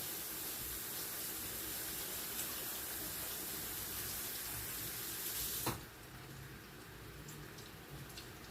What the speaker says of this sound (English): So I'm just going to wash my hands again real quick.